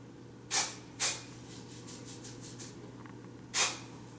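Three short, sharp hissing spray bursts of beard makeup applied to a face, two close together and a third after a pause, each bright and airy against a quiet room hum.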